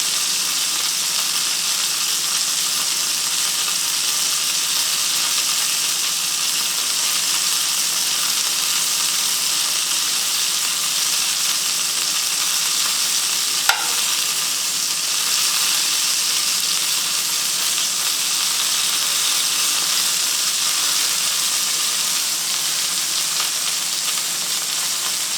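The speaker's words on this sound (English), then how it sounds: "just to let the fat kind of render out and sear" A steak held fat-side down in a hot pan, its fat rendering and searing in a loud, even, unbroken sizzle that runs the whole length with one brief click midway.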